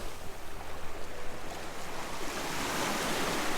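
Waves wash steadily over a shoreline at high tide on the Wirral Peninsula near Bidston Lighthouse, a continuous broadband surf rush that swells slightly louder toward the end, with faint wind and no talking.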